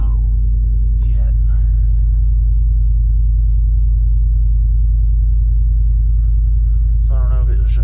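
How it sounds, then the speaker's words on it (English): A truck engine idles steadily with a deep, low rumble on a cold, snowy morning in Yellowstone. The hum holds constant throughout, and a brief voice rises near the end. "Made it into the truck. Truck started, thank God."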